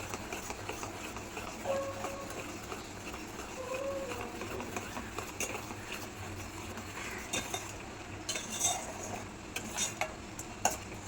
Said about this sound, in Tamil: இந்த அடி பிடிக்காமல் இந்த மாதிரி கலரிட்டே இருக்கலாம்